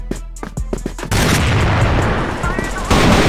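Loud, close gunfire in a Counter-Strike-style shooter video game. Several sharp shots come in quick succession, then a heavy, sustained roar of blasts and noise fills the rest.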